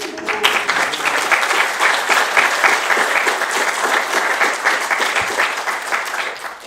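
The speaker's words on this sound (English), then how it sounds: "A round of applause for sending 6 A's." Audience applause at a Python programming conference, a steady wash of many hands clapping that fills the room from start to finish, loud and even with no talk over it.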